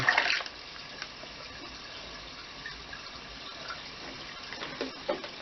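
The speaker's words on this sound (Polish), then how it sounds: "Do flaszeczki woda." Water poured from a small bottle into an aquarium, a steady faint trickle after a brief louder splash at the start, with small drips and splashes near the end, no voices.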